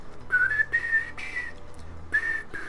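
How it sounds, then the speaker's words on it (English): A person whistles a short tune with a few clear, wavering notes in separate phrases, close and fairly soft, with no talking. "Sometimes I get a good whistle, sometimes I can't."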